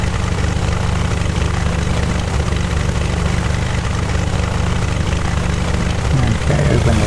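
A Cessna 172 taxiing toward the end of the runway, its propeller engine a loud, steady droning rumble that swells slightly near the end, with voices talking over it.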